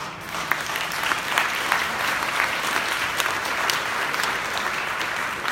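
A crowd applauding and cheering, a steady wall of clapping with scattered louder claps, sustained evenly throughout with no talk over it.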